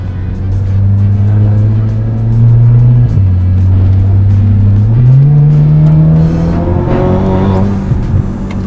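An Audi S3 Quattro Stage 4 accelerates hard, its engine droning loud and close, revving up through a gear change before climbing again.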